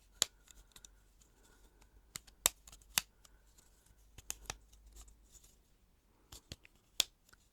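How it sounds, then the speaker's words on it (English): A segmented stim toy whose pieces rotate and snap into place with sharp, quiet clicks, scattered singly and in small irregular bursts over near silence. "Each piece goes to 90 degrees and then clicks."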